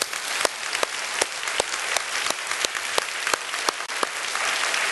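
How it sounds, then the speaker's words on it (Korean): A church congregation at a conference applauds together, a dense, steady wash of clapping from many hands with a few sharper individual claps standing out, sustained throughout without talk. "우리 하나님께 영광의 박수 드리겠습니다"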